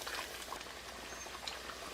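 Chicken simmers in tomato water in a covered pot for a macaroni dish, a steady low bubbling with soft scattered pops and spatters, close and fairly quiet with no voices.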